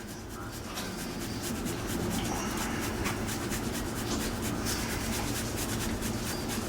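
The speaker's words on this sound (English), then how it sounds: "I'm going to grate me a bunch of parm in here now." A wedge of parmesan is rubbed over a grater in a kitchen, making a continuous, close scraping rasp with rapid repeated strokes that lasts several seconds.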